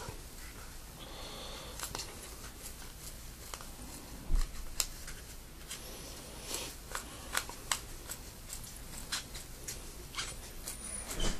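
A blade cuts around the outside of an RC car tire on its wheel, giving short scraping, snipping strokes in uneven bursts, close up and fairly quiet, with no voices.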